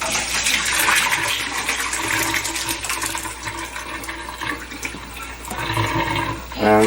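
Cheese curds and whey pour from a pot into a cheesecloth-lined strainer for roshgolla, a steady rushing splash of liquid that runs several seconds and swells again near the end.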